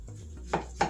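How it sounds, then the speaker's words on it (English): A knife cutting through tender cooked BBQ ribs on a board, two short soft thuds as the blade meets the surface, close and quiet with no talk. "Knife is going through pretty well."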